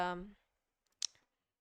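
A single crisp mouse click presses a button, heard close and brief just after a person stops talking, followed by a few faint ticks.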